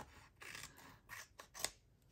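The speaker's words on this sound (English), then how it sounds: "I'm just going to get my scissors and snip it off" Scissors snip a crooked edge off a paper folder for an accordion trifold craft, making several quiet, crisp cuts in irregular succession, close by and with no talking.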